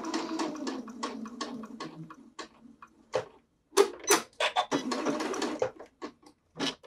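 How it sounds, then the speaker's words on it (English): A sewing machine stitching an apron strap, running in stop-start bursts of rapid ticking, with short pauses while the fabric is pivoted, close and fairly quiet. "you'll want to stitch down to the end, and before you get to the end, lift your presser foot and pivot"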